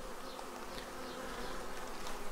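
Honeybees buzz at a beehive in a dense, steady, continuous drone, loud and close throughout, with no talking.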